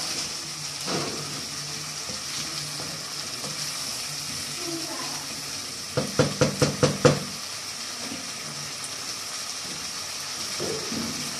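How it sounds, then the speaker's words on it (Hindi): A glass of water poured into chicken frying in a pan sets off a burst of several sharp sizzling crackles, after a stretch of quiet background frying and stirring. "देखा मैं इसमें डालूंगी 1 गिलास पानी।"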